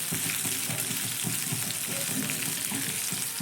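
Chopped green chilli and ginger fry in hot oil in a pan, giving a steady, close, continuous sizzle with faint crackle throughout and no voices.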